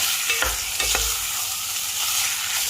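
Pork stir-fries with nam ngiao chili paste in a pan, a steady close sizzle with a few scraping stirs near the start, no voices.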